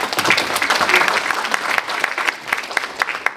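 An audience at a keynote speech applauds, a dense crackle of many hands clapping close and loud, thinning slightly toward the end.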